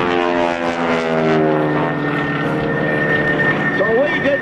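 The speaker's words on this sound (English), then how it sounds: "Taxiing down here, one of the airplanes that I certainly enjoy watching" A Stearman biplane's radial engine drones steadily as it taxis at the 2004 Rhode Island Air National Guard open house airshow, loud and close, with a voice speaking over it near the end.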